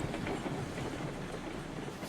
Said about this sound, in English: See that the whole train gets up the hill.